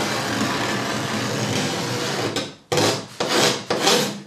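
A scraper drags across filler on plywood in a steady, loud rasping stroke, then breaks into three shorter scrapes, close up with no talking.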